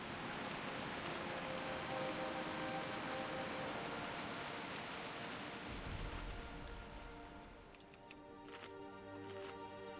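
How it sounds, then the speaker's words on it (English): Steady, dense rain hiss from a video game fills the scene, loud and continuous, with a low rumble partway through and faint clicks near the end, no talking over it. "the sound for the rain kicked in before the visuals"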